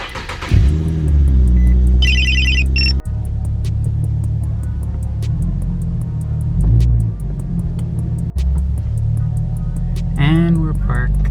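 A truck engine idles and rumbles close by, revving up at moments as it pulls in to park under a carport, with a few door or mechanical clunks along the way.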